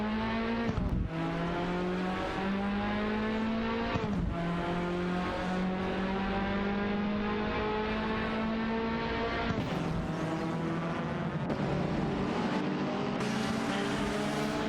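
In a racing video game, a BMW 2002 and a Puma GTB race in close company, engines droning at a high steady pitch that shifts with gear changes and brief drops, loud and continuous.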